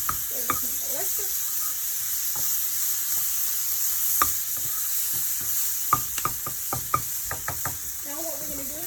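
Fish and onions fry in a pan with a steady, close sizzling hiss, broken by repeated knocks and scrapes as a utensil stirs them, the strokes coming faster toward the end.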